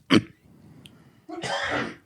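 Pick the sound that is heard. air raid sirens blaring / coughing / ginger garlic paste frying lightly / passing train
coughing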